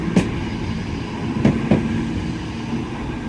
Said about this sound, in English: the Manchester Metrolink tram, the 3100, is leaving quickly again